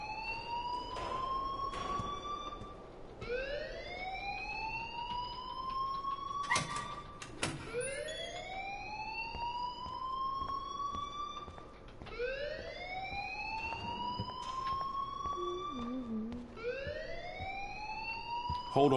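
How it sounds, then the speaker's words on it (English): An electronic alarm in a PS4 video game wails in repeated rising sweeps, about five steady cycles at a moderate level, with a few sharp clicks between them. "please turn off that alarm since that's your job"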